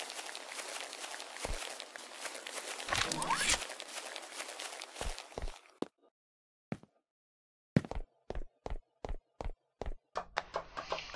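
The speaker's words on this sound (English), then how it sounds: "Not liking the footstep sound on that material" Footsteps on a hard material inside a bunker in a video game: a run of sharp, evenly spaced steps, close and fairly loud, first over a noisy ambient bed, then alone against near silence.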